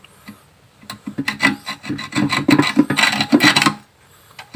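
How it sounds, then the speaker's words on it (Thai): A hand saw cuts a groove into the hard head of a stripped crankcase cover bolt on a Honda Fino scooter, giving quick close rasping strokes in a steady back-and-forth rhythm that start and stop briefly. "เดี๋ยวลองค่อย ๆค่อยเลื่อยไปนะครับ"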